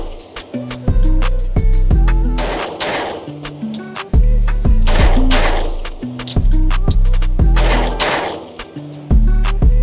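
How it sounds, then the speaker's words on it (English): Glock pistol shots ring out in quick pairs at targets: a series of loud, sharp cracks, several bursts spaced over about ten seconds with brief gaps between. "just me trying to press out and get on target quick and get 2 rounds off."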